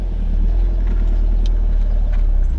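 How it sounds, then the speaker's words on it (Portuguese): An Audi TT Cabrio 8S with a 230 hp engine pulls away in automatic mode, its steady, loud low engine rumble heard from inside the car with no talk. "vamos arrancar no modo automático."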